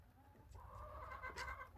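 Big hens in a mixed flock clucking softly nearby, a low steady murmur of fowl with a few louder calls rising near the end.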